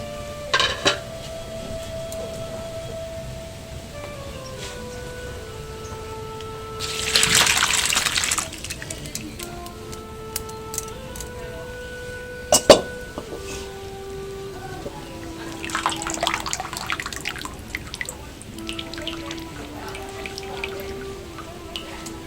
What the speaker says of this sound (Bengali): এবারে আমি গরম জল থেকে পনিরগুলো ছেঁকে নেব